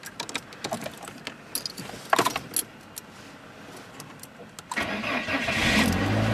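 A car sits frozen over on a 1 °C morning; keys jangle and mechanical clicks sound close by, then the engine cranks and catches at once, settling into a steady idle.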